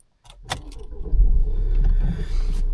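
A few clicks and a brief starter whir, then an Opel Astra K engine catches and settles into a steady, close idle rumble.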